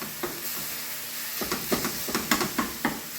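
Ground meat with green chile frying in a pan, a steady sizzle broken by a series of sharp scraping stirs that come in a rough rhythm, close and fairly quiet.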